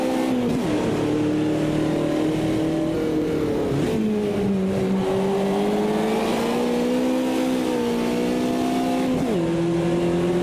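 Puma G race car engine in the Automobilista 2 racing game, a steady loud drone whose pitch climbs through the gears with brief dips at shifts, continuous throughout with no talking.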